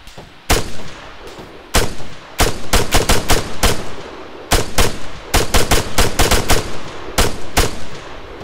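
Machine gun fire in Arma 3, a military shooter: repeated loud, sharp bursts and single cracks ring out close by, spaced irregularly across the clip with brief quiet gaps between volleys.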